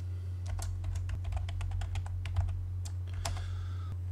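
Rapid keystrokes on a computer keyboard entering an AutoCAD shortcut, a quick run of close, crisp clicks with a brief pause before a final few taps, over a steady low electrical hum.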